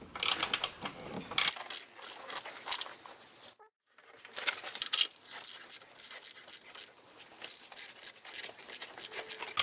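A ratchet wrench clicks rapidly in bursts while tightening a car battery terminal, close and crisp, with a brief pause midway before the ratcheting resumes; no voices.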